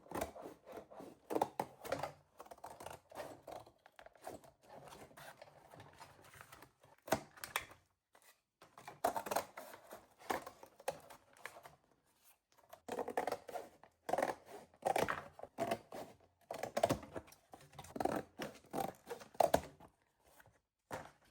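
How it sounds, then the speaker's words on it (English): Scissors cutting apart a cardboard shoe box, a close, quiet run of snipping and scraping cuts in clustered bursts with short pauses between them. "first I'm going to cut the box apart so that I get pieces that are a lot more manageable"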